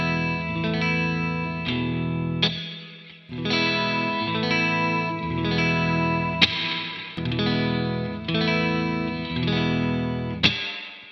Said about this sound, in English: It's a reverb pedal